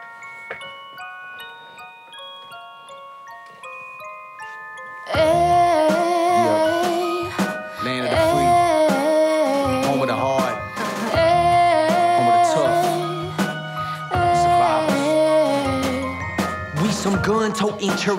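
A song playing back: a quiet melodic keyboard intro gives way after about five seconds to a loud, full mix with a steady beat and layered instruments that carries through to the end.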